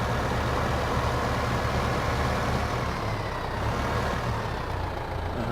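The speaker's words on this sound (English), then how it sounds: "Now, let's pull the tractor up and see what we got." Tractor engine in Farming Simulator 15 pulling onto a weigh scale, a steady, dense, loud drone of rumbling motor with no pauses, running alone without talk.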